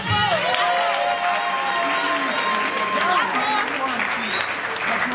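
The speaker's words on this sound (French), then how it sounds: "Je demande à tout le monde d'applaudir très très fort pour les artistes." An audience at a live show claps for the performing artists, sustained applause under a prominent tonal musical or vocal line, with a voice talking over it.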